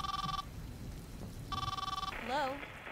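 A phone rings twice inside the horror game It Will Find You, two bursts of an electronic ring separated by a pause, with a rumbling storm-like ambience beneath and a short warbling tone at the end.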